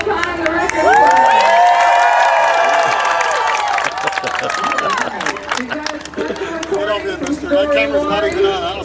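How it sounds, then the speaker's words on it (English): A crowd of children and adults at an outdoor Hokey Pokey event on the Walkway Over the Hudson cheers and shouts loudly and continuously, with excited voices, music and chatter mixed in throughout. "So if everybody give me a cheer if you hear that"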